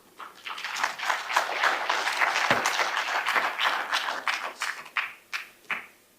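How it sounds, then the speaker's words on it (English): Applause from a conference audience, a burst of clapping that swells, holds, then thins into scattered individual claps and fades out. "A round of applause, ladies and gentlemen."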